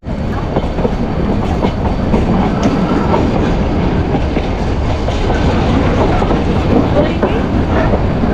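The Ooty to Mettupalayam toy train runs along its line, a loud, close, continuous rumble of carriages with steady clickety-clack from the wheels and no pauses.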